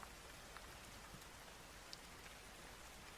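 Rain falls steadily as background noise, a soft, even hiss of drops with occasional faint individual patters, quiet and constant with no voices over it.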